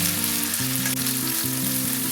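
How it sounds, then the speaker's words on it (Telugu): Carrot pieces frying in hot oil in a home kitchen pan: a steady close sizzling hiss runs throughout, with a melodic tune playing alongside it. "ఇప్పుడు ఈ క్యారెట్ను ఒక 10 నిమిషాల పాటు ఇప్పుడు దీన్ని నూనెలో ఫ్రై చేసుకోవాలి."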